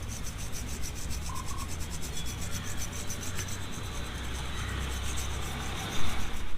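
Dust being brushed off a UPS motherboard salvaged from scrap, a continuous close rubbing and scrubbing sound with a steady rhythm and a slightly louder burst near the end.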